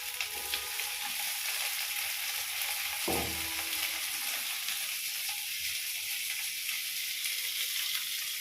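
Cumin seeds sizzle steadily in hot oil, a continuous close frying hiss with a brief clatter of stirring partway through.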